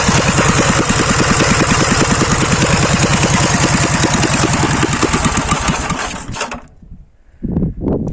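A K-750 motorcycle engine idles loudly and steadily with a regular thumping beat for about six seconds, then cuts out, leaving near silence broken by a brief burst of sound near the end.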